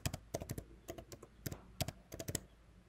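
Mac keyboard typing a terminal command: a quick irregular run of crisp key clicks, close and clear, with no talking.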